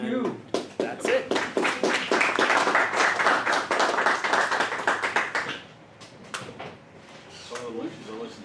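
A small group claps for several seconds, the claps dense and close, then tapering off to scattered claps and quiet voices.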